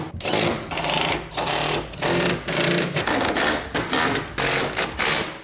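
Power tool tightening bracket bolts for a Legend BedBoss truck bed system on a Ford F-150, a loud impact-style chatter in short repeated bursts separated by brief pauses, close to the mic.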